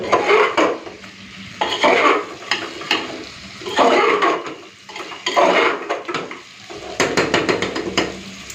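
A spoon scrapes and clanks around a pan of chicken curry with tomatoes in bursts of a second or two with short pauses between, and a soft sizzle runs underneath, close and fairly loud, with no voices.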